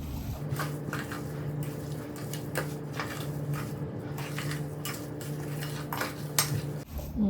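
A spoon clinks and scrapes against a bowl while smoked mackerel and egg paste is mixed, a run of irregular metallic taps and clatters close by, with no talking.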